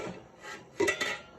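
Metallic clatter and scrape of a lid being set on a water bath canner, two close clanks in quick succession with a brief rubbing sound.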